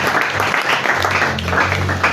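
A church congregation at a Bible teaching session breaks into steady, loud applause that carries on for a couple of seconds.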